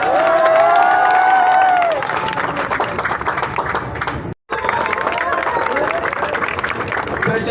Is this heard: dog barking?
no